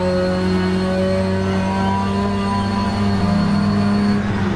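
Race car engine in the rFactor 2 racing game, droning loudly and steadily with layered harmonic tones that climb and shift as the revs change, heard alone with no talk.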